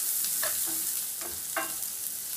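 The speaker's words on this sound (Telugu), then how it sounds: "ఆయిల్ వేడెక్కిన తర్వాత ఇందులోకి సన్నగా కట్ చేసిన ఒక మీడియం సైజ్ ఆనియన్ యాడ్ చేసుకోవాలి" Thinly sliced medium onion and slit green chillies fry in hot oil for egg 65, giving a soft continuous sizzle with a few scraping stir strokes, close and fairly quiet, no voices.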